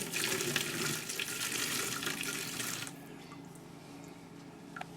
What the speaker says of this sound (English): So now I will pour some hot water on it and we'll see what will happen.